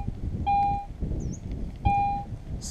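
A metal detector sweeping over ground gives an unstable signal, two short clear tones about a second and a half apart against rustling and faint outdoor background.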